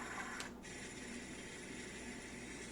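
Quiet, continuous rushing river setting from a portable white noise machine, an even broadband hiss with a short brighter blip near the start and no voices.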